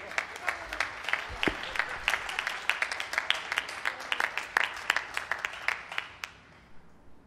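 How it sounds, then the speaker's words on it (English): An audience claps at a building naming ceremony, a moderate crowd with distinct individual claps audible in the mix, tapering off and fading out toward the end. "let's give a round of applause for Susan Thompson"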